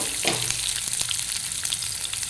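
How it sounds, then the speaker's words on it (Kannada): Chopped garlic fries in hot oil for a mushroom pepper dish, a close, steady sizzle with a brief burst of crackle near the start and light spoon scrapes, with no voices heard. "ಕಟ್ ಮಾಡಿ ಇಟ್ಟಿದ್ದು ಬೆಳ್ಳುಳ್ಳಿ ಹಾಕ್ತಿದ್ದೇನೆ ಸ್ವಲ್ಪ ಫ್ರೈ ಮಾಡ್ಕೊಳ್ಬೇಕು"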